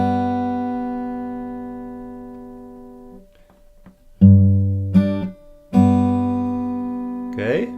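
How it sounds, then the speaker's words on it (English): An acoustic guitar rings with a sustained chord that fades out, then the 6th, 3rd and 2nd strings are plucked together in a few close, bright attacks, with a faint squeak of fingers sliding on the strings at the end. "And now we play the 3 strings, 6th, 3rd and 2nd at the same time."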